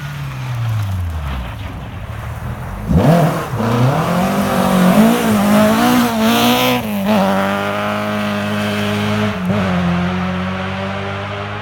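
Rally cars at the Pirelli International Rally, stage SS1, race through a chicane: an engine note rises loudly, drops under braking, then revs hard again through gear changes with wind buffeting, close by and steady for most of the run.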